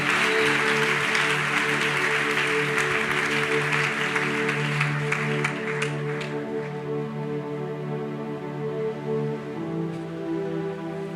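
A church congregation at a miracle service applauds loudly, a dense wash of clapping that gradually thins out while sustained tones from a keyboard or organ carry on underneath.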